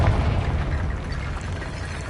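A Confringo fire spell blasts a barricade in the video game Hogwarts Legacy, a dense rumbling explosion that roars loud and sustained through the whole moment, with no talking over it.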